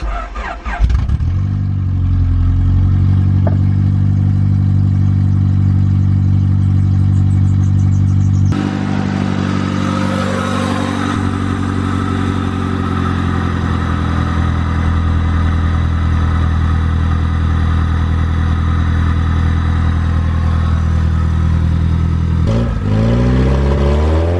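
A Honda Civic EG8 engine cranks and fires up loud and close, settling into a steady idle with a brief rev midway and another quick rev near the end.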